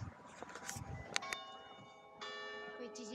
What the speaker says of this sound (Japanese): 1時間ごとに鐘が鳴るらしいです。